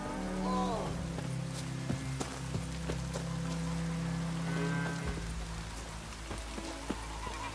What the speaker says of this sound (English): Griffin don't fly in the rain.